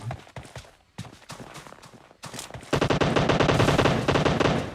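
Rapid bursts of AK rifle fire and grenade blasts in a competitive tactical shooter match, starting as scattered shots and building into sustained, loud automatic fire, with no talking.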